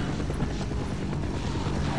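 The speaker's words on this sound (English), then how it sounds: "Whoa, that's a helicopter." Helicopter in the video game Half-Life, a steady low whirring thrum of rotor blades, moderately loud and continuous, with a voice briefly heard over it.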